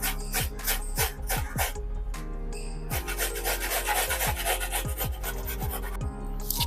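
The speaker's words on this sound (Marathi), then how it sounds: "आपल्याला बटाटा अगदी बारीक किसणीने किसून घ्यायचा आहे" Peeled potatoes are grated on a fine grater in a fast, steady series of close, rasping strokes that continue without a break and without speech.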